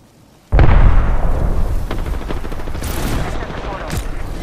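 Gunfire from the video game Apex Legends bursts in loud and close after a brief quiet, rattling on as sustained rapid shots with a few sharper cracks.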